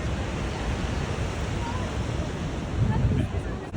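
Niagara Falls roaring, a dense continuous rush of falling water close by, loud and steady throughout, mixed with wind buffeting the microphone.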